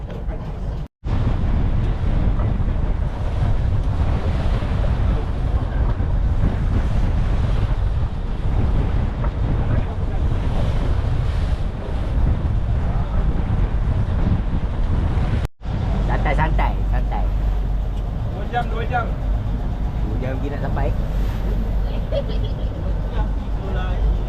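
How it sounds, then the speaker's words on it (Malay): Strong wind buffets a microphone on a deep-sea fishing boat during a storm, with a roaring, rumbling low end, waves and the boat's motion underneath; a short dropout and faint voices appear. "Angin terlampau kuat"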